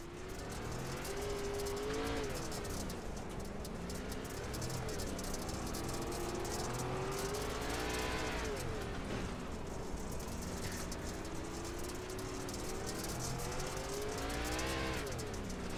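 A dirt race car engine drones steadily on a clay track at a Chili Bowl exhibition race, pitch rising and falling as the throttle is eased on and off, heard from a distance without talk.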